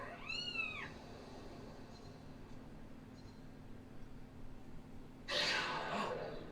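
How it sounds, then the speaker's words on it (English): A cat in the video game Skyward Sword gives one clear meow with a rising then falling pitch at the start, followed by a quiet background and a brief noisy burst near the end. "Oh, look, it's the kitty cat! Or the koala kitty cat."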